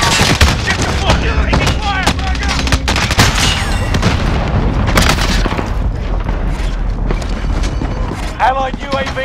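Heavy gunfire and booming blasts from a Call of Duty: Modern Warfare match, with repeated sharp shots and explosions running loud and dense throughout, while game voice lines come through beneath.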